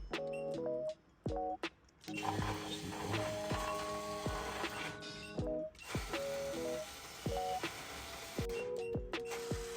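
An older model vending machine is tested slot by slot: motors whir in short bursts, beeps and mechanical clunks come between them, and fairly quiet gaps separate each cycle.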